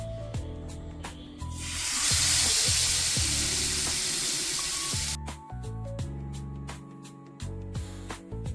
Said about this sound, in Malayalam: എണ്ണ ചൂടായിട്ട് നമുക്ക് മീൻ വറക്കാൻ വേണ്ടിയിട്ട് വെച്ചു കൊടുക്കാം.